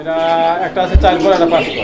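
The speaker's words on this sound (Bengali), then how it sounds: "চকোবার রেসার কবুতর চকোবার রেসার কবুতর" Racing pigeons coo softly in a low, rounded rhythm beneath steady nearby talking, with a brief thump partway through.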